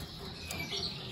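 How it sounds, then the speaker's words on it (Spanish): Small aviary birds chirp in short, faint tweets over a soft, hissy background, with no voices present. "Mira las parejas que tienen estos pajaritos."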